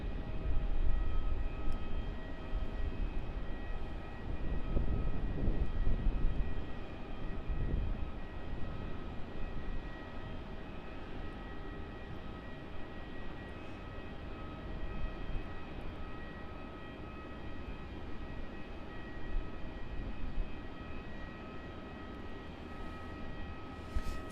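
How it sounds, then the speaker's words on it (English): A small Embraer jet takes off from Melbourne Airport, its engines a steady broad roar at a distance that swells early and then slowly fades over a long stretch. "There goes a little Embraer off to Townsville"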